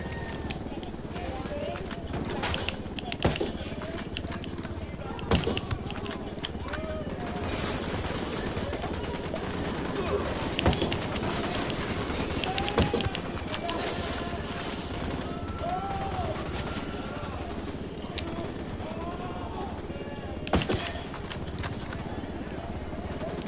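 Gunfire in the tactical shooter game Ghost Recon, a steady battlefield din with sharp, loud shots cracking out every few seconds, under continuous background noise and voices talking.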